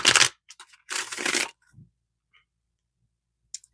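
Tarot cards are shuffled in short bursts, two quick riffling flurries followed by a few small taps and clicks with quiet between them.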